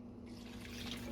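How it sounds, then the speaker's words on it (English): Liquid ingredients splash and trickle into a bowl of steak for teriyaki, a short, soft pour with a steady wet dribble and a low background hum. "Yes, it splashed a little bit"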